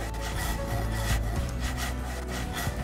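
A handsaw rasps back and forth through wooden planks in DayZ, the strokes repeating in a steady rubbing rhythm. The cutting is close and loud, with no talk over it.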